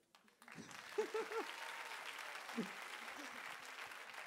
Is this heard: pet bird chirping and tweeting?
no